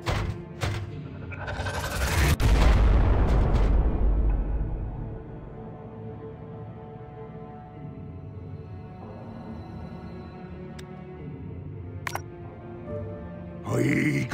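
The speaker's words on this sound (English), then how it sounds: "Throwing grenade!" Grenade blast in the Warhammer 40K Regicide game, a loud booming explosion with a long rumbling decay, followed by quieter battle noises and a later thud.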